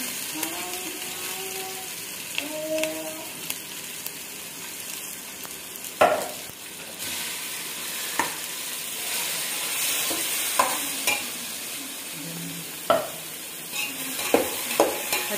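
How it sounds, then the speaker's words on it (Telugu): Aloo masala paste frying on a low flame after curry leaves, with a steady soft sizzle and repeated scraping knocks of a spoon stirring the pan, the stirring close and moderately loud. "మసాలా పచ్చివాసన పోయే వరకు బాగా స్టవ్ సిమ్ లో పెట్టి మాడిపోకుండా ఎవ్వలగా వేయించాలి"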